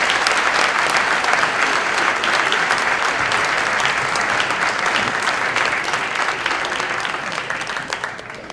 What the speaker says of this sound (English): But I'll give him a warm welcome with an applause.